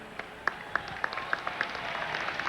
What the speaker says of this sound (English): share your applause with the deputy mayors who are here in attendance today